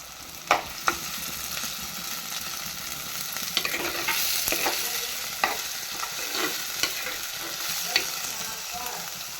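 Crushed small shallots frying in coconut oil for a Kerala-style pearl spot fish curry, giving a soft continuous sizzle broken by a few sharp spoon clinks and stirring scrapes, close up and fairly quiet.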